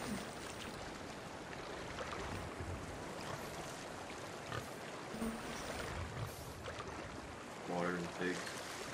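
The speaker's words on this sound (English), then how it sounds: "Water and pigs." Water sloshes and splashes continuously at moderate volume in the video game Sea of Thieves, and near the end a few short pig oinks break through the watery noise.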